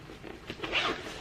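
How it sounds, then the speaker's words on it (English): The rear pouch zipper on a Herschel Orion backpack is unzipped in one quick, close zip, a short rasping pull that brightens toward the end. "But if you unzip it"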